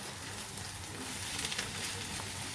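Chopped vegetables sizzle in a pan for an Egyptian omelette with eggs, flour and spices: a steady, close, soft frying hiss that runs unbroken throughout, with no voices.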